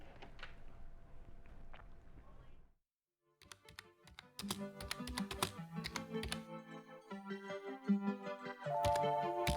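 Someone types on a computer keyboard in a film scene, starting with faint taps, then a brief silence, followed by brisk, irregular clicking that grows busier and louder under a soft background.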